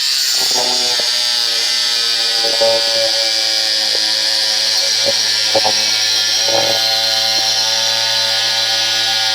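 A power tool cuts through the exhaust pipe of a 1964 Ford F250 4x4, giving a loud, steady whine with a few short bursts of harsher grinding contact along the way.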